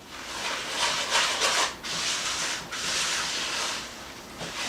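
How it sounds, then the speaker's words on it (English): A spatula scrapes and stirs sugar and oil together in a bowl for carrot cake batter, a close, gritty rubbing in repeated strokes with short pauses between them. "Now I'm just going to take my spatula and just stir this sugar and the oil together really well."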